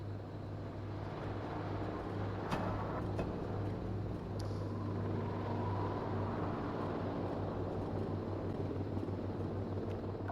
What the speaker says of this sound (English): I hear the drone coming in.